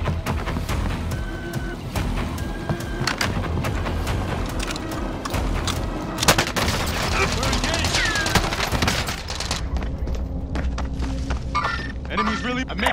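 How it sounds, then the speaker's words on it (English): Fortnite gunfire crackles almost nonstop, with close bursts of automatic fire and single shots over busy game ambience, and a voice speaks partway through. "I'm under fire"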